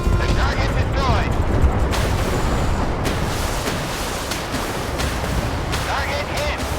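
In a naval battle video game on an icy map, a torpedo strikes and destroys an enemy ship, giving a loud, dense rumbling blast with crackling debris and several sharp hits, under game voice callouts.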